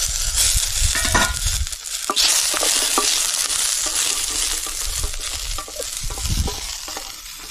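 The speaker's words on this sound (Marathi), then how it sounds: "लसूण पण टाकून घेते. तर हे थोडस परतलं की मग बाकीचे शेंगदाणे आणि खोबरं टाकू." Chillies, garlic and ginger sizzle in hot oil in a pan while a spoon stirs and scrapes, giving a loud continuous frying hiss broken by metallic clinks and scraping strokes, with no talking.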